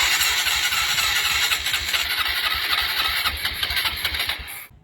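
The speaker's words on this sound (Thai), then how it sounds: "เดี๋ยวมาติดเครื่องกัน ว่าคันนี้จะอยู่ที่เท่าไหร่" A vehicle engine cranks and catches, then runs with a loud, steady rumble at close range before cutting off abruptly at the end.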